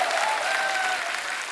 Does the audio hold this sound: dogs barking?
no